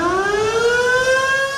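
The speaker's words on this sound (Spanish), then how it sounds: "Durante este simulacro que inició con la activación de las sirenas" Civil defense sirens wail loudly and steadily during an emergency drill. A single sustained tone rises slowly in pitch and carries rich harmonics, with no voices over it.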